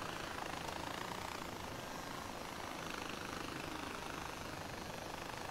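Mini chopper helicopter engine in Far Cry 4, a steady dense whirring roar that holds without a break at constant loudness.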